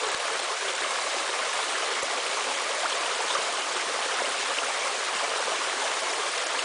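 A cascading waterfall pours into a creek: a steady, even rush of falling water, close and continuous, with no voices and no break in the flow.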